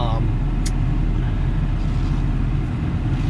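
A 2011 Ford F350 diesel truck drives with a steady low engine and road rumble, loud and close inside or beside the vehicle, continuous throughout.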